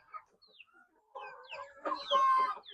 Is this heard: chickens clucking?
yes